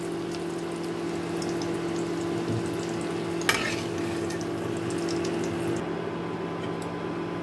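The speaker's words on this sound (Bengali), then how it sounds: "দেখুন আমি হালকা করে মুখী কচুটাকে ভেজে নিয়েছি।" Constant soft sizzling of taro (arbi) frying in oil, with a steady hum behind it and a sharp clink of a utensil midway.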